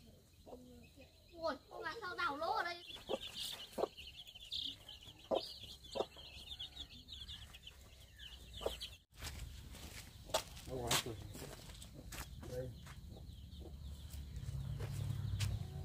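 Chickens cluck and squawk steadily near the microphone while being fed in a farmyard, with scattered footsteps and thumps throughout and a sharp burst of clucking early on.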